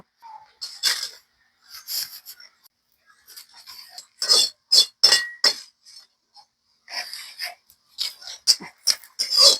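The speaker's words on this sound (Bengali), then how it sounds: "আমি শুকনা মরিচ খালি কড়াইতে ভাজি করে নেব" Dry red chillies roasting in an empty wok give off intermittent sharp crackles and sizzling hisses in scattered clusters, close and fairly loud, separated by short silent gaps.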